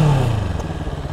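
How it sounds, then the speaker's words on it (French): Moto Morini Calibro 700 motorcycle with a fairly quiet exhaust rumbles steadily at low revs, a close, continuous throb with a brief tick partway through and no voices. "bruit plutôt discret au niveau de l'échappement"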